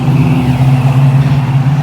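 A car's engine hums steadily at idle with a low, even drone, close and fairly loud, no voices over it.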